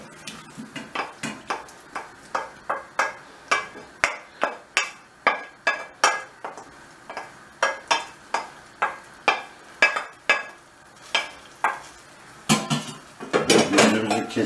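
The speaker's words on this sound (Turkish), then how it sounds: "malzememizi tencereye geri koyuyoruz" Repeated metallic clanks and scrapes of a spoon against a cooking pot as sautéed tas kebab ingredients go back in, steady rhythmic strikes close by, ending in a busier clatter.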